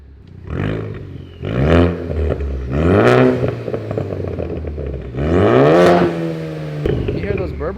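A Ford Focus ST fitted with a Tomei exhaust is revved to around 4,000–5,000 rpm in four loud, rising bursts, each falling back with crackling turbo burbles near the microphone.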